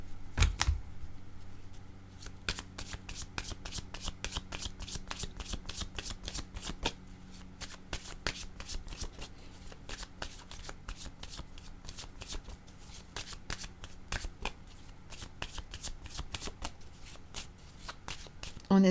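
Tarot cards shuffled steadily for almost twenty seconds, a dense run of crisp riffling flicks and slaps at close range with no talking over them.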